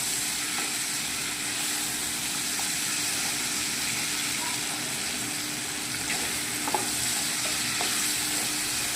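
Potatoes sauté in a hot pan with a continuous, even sizzle and occasional soft stirring scrapes, close and steady throughout with no talking.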